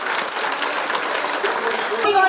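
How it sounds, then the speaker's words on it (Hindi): An audience at a Jharkhand government event applauds to welcome the chief minister: steady, crowded clapping that holds evenly for a couple of seconds before a voice cuts in near the end. "जोरदार तालियों के साथ स्वागत कीजिए माननीय मुख्यमंत्री"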